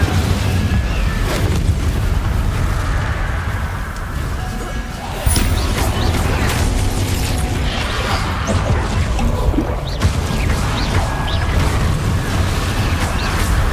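Spell blasts and fiery bursts from Hogwarts Legacy combat, including Depulso, Incendio and Confringo, boom repeatedly in a dense, loud stream, with incantations called out over the impacts.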